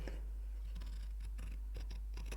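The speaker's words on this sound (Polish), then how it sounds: "No i teraz wycinam." Scissors cutting fabric for a sewn tulip, a few crisp snipping strokes close by over a steady low hum.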